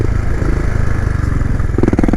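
A motorcycle engine revs up briefly during a wheelie practice ride, a close, rough throttle blip with a rising pulsing tone near the end.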